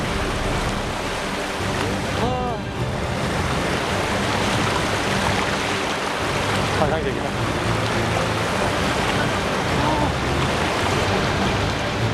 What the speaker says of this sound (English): The waterfall that elegantly falls 105 meters down draws exclamations out of me.